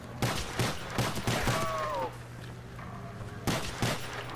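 Rapid bursts of video game gunfire from a weapon in Black Ops 3 zombies mode, repeated rhythmic shots in clusters with a pause in the middle, alongside a tonal game effect.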